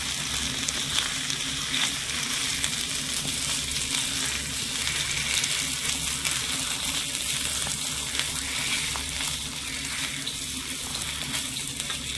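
Ivy gourd paste being stirred and fried in a pan, a continuous hissing sizzle with faint scraping movements throughout, close and moderately loud, with no voices.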